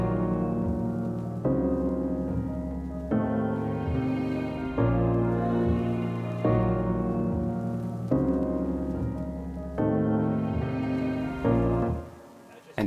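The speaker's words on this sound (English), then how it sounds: "It's the perfect blend between a synthesized sounds and actual like real brass, and then all together it's just gonna sound like this." Brass preset from the Arturia Augmented Brass sound bank, blending synthesized and real brass: loud, dark sustained chords change every couple of seconds over a repeating low pulse and continue steadily for about twelve seconds without speech.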